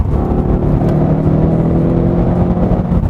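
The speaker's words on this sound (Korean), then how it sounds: "트랙 배기를 켰는데 악셀 밟지 않아도 벌써부터 으렁으렁거려요, 뒤에서." Ford Mustang with its exhaust set to track mode, idling with a steady, loud low rumble from behind the car, continuous and even throughout with no throttle blips.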